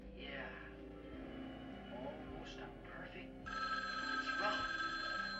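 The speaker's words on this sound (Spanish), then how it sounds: "damos paso al teléfono que suena" A telephone ringing in the horror film Halloween, its electronic bell trilling under film music, with the ring growing louder and denser in the second half and a voice speaking over it.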